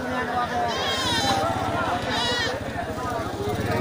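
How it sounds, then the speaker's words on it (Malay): Male goats raised for fattening bleat in a group, with repeated wavering calls rising over a constant hubbub of nearby voices and livestock noise. "ini rombongan dari kambing untuk kategori kambing penggemukan"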